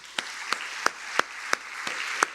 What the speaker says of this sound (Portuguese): Vamos aplaudir as mães